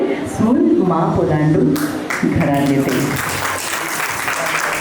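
A crowd claps warmly at a traditional baby shower, the applause rising and falling in bursts while a voice talks over it nearby.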